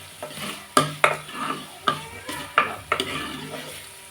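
A spatula scrapes and clacks against a hot pan in repeated strokes over a soft sizzle, close and fairly loud, with no talking.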